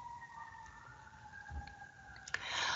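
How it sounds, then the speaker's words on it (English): A faint, distant siren holds steady tones far in the background of an otherwise quiet room. "I get sirens all day and all night."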